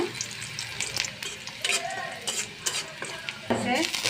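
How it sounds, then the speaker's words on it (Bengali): Onions sizzling steadily in hot soybean oil, with a spatula stirring and occasional clinks against the pan, close by. "তেলটা আমার গরম হয়ে যাবে আমি পেঁয়াজগুলো দিয়ে দিব"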